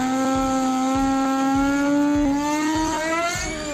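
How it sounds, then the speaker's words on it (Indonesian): Wood trimmer router cutting a profile on the edge of a shoe rack bench, a loud steady high motor whine with rhythmic dips as the bit bites into the wood. "kita selesaikan untuk proses pembuatan profil menggunakan mesin trimmer"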